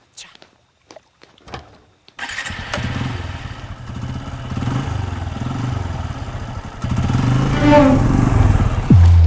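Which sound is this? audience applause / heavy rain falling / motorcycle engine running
motorcycle engine running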